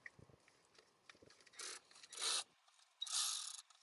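A hand tool works against the half-inch drive shaft bolts under a 1967 Lincoln, giving scattered clicks and then three loud bursts of harsh mechanical rattling that stop and start with pauses between them.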